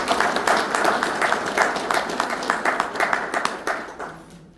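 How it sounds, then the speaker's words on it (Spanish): An audience applauds at a university event in Santo Domingo, a dense steady patter of many hands clapping for several seconds before fading out at the end. "Un aplauso, por favor."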